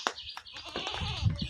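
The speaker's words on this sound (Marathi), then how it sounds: "शेळ्या वरडते त्या, मी रानात गेली की वरडत राहते ते" Goats on a farm bleat in short, wavering calls at close to moderate distance. The calls overlap a little against light outdoor background noise.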